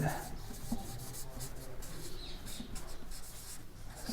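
Pen writing on paper while working through a maths problem: continuous close scratching and rubbing strokes, steady and fairly quiet, with no talk over it.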